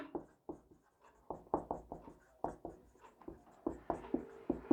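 A pen or pencil scratches out numbers by hand in short strokes, a close, steady series of soft scraping marks with brief pauses between them.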